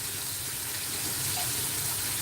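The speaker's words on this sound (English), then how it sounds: "I'm going to have to add some water." Water runs steadily into a pan on a stove while breakfast of grits, eggs and bacon is cooked, a continuous close gushing pour without any talking.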